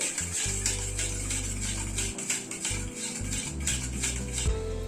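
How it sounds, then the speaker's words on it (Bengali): Yogurt being stirred into masala in a pan on a low gas flame for a potol rezala, with a spoon scraping and clinking against the metal in a steady run over a low background hum. "দইটা অ্যাড করে দিয়ে গ্যাসের ফ্লেমটাকে কমিয়ে একটু নাড়তে হবে দইটাকে"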